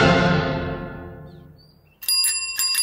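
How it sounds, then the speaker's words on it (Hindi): A peon's bicycle bell rings in quick metallic dings after a long fading tone, bright and close, with no talking. "प्यून के साइकिल की घंटी।"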